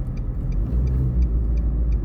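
A car engine drones steadily as a learner driver accelerates. The low rumble is loud and close, with faint regular ticks above it and no talk.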